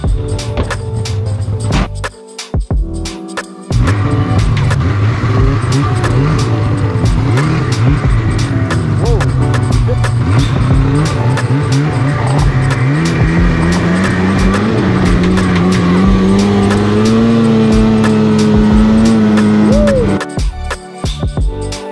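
A snowmobile engine running on a snowy road, loud and close, revving and droning continuously with rising and falling pitch and brief drops, no talk.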